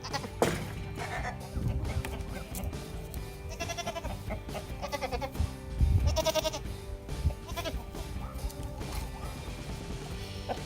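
Goats bleat several times in wavering calls amid clattering and knocking noises, with busy farmyard activity throughout.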